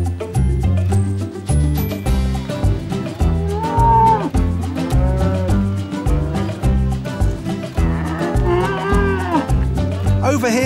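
Cows mooing as they are walked down to a farm barn, several long bellowing moos rising and falling over loud, steady background music, no speech.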